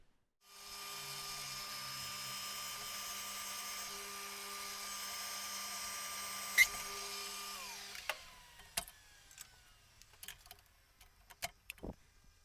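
A drill fitted with a tapping attachment and reaction arm runs down into a workpiece to tap a hole, giving a steady close whir with a faint tone that cuts off after about eight seconds, followed by scattered clicks and knocks.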